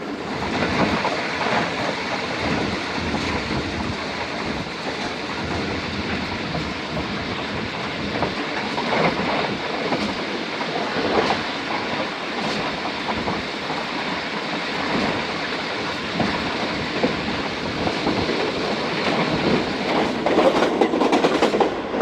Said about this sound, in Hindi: कसोवाल रेलवे स्टेशन पास हुई ट्रेन।